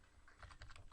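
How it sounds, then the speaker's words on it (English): Fast keyboard typing in Microsoft Word on a computer, a run of quick, close key clicks with an uneven rhythm, heard alone without any talking. "double click, and then start typing"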